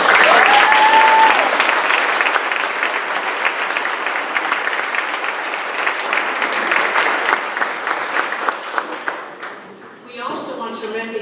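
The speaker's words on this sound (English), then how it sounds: "Let's please give them a round of applause." A loud, sustained round of applause from a crowd at an annual awards luncheon fills the room, dense clapping that slowly thins before a voice begins speaking near the end.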